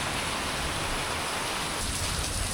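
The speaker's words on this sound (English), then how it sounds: "But man, is she raining." Heavy rain pours steadily at an off-grid cabin, making a dense, even hiss that fills the whole clip with no breaks or voices.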